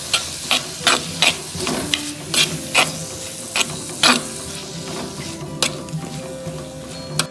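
Onion, tomato and curry leaves frying in a pan for a Kerala-style sardine dish, a spoon knocking and scraping the pan in sharp repeated strokes over a soft sizzle, close and without talk.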